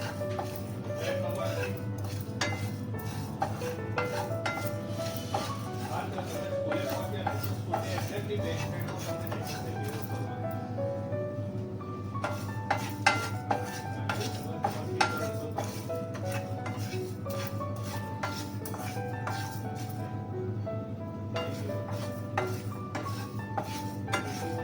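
Prawns roast in a pan over a medium gas flame while a metal spoon stirs them, producing repeated close clinks and scrapes against the pan with a low background hum.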